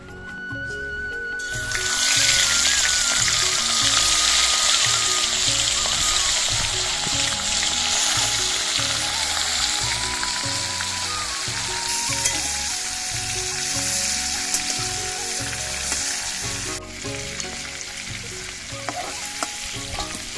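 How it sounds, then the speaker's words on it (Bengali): Prawns frying in mustard oil in a wok, a loud, steady close sizzle with stirring scrapes running throughout, easing slightly near the end. "কড়াইতে আমি সরষের তেল দিয়ে মাছগুলোকে হালকা ভেজে নিচ্ছি।"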